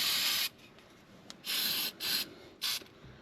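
An aerosol can of rust fix hisses onto the suspension parts of a 1986 Buick Grand National in four close, loud bursts separated by short gaps.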